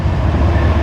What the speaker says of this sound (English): just crossed over the railroad tracks just in time before the freight train arrived